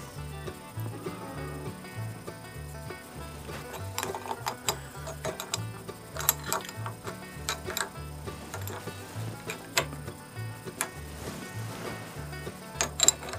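Small metal nuts being threaded and tightened onto the carburetor of a 1965 Evinrude 3hp outboard, giving a steady run of close, light mechanical clicks and ratcheting ticks with no talking.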